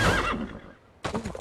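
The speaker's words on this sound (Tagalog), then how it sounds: "Kabayo ba yan?" A horse in a video game neighs loudly and up close in two bursts: a whinny, a short quiet gap, then another shrill call with faint hoof clatter.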